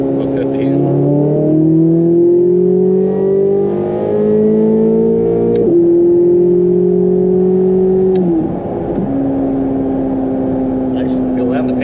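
A Corvette with a new intake accelerates hard through third gear, its engine note rising steadily in pitch with gear-change dips, loud and close from inside the car.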